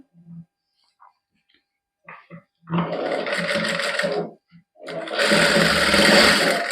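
A sewing machine stitching gota lace onto a dupatta runs in two bursts, the second louder and longer, separated by brief pauses with faint handling noises.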